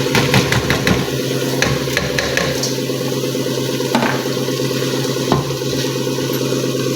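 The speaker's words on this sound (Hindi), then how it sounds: "अब मैं इसमें चावल ऐड कर दूंगी।" Rice added to fried chana dal korma in a cooking pot and mixed in, a loud continuous sizzle and frying hiss with scraping stir strokes and occasional clunks, close and steady throughout.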